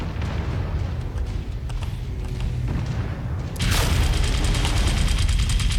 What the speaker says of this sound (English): Those machine guns make a lot of special effects.